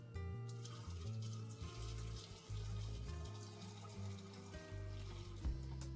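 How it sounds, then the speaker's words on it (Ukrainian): Boiling water poured from a kettle into glass jars packed with tomatoes for winter preserving, a continuous trickling, gurgling pour with shifting pitch as the jars fill, close and fairly quiet. "тепер ми заливаємо окропом наші баночки."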